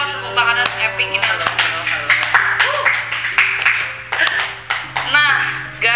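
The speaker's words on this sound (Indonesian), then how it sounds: "Wow, tepuk tangan epic ini." Several people clap in quick, uneven bursts during the opening of an Indonesian talk show, close and crisp, mixed with lively speech and a steady low hum underneath.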